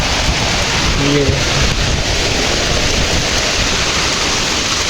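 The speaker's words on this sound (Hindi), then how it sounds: "तो ये देखो, ये रहा बारिश।" Steady, heavy rain falls in a loud, even hiss that never lets up, heard from a rooftop in Bihar, with a brief faint voice under it early on.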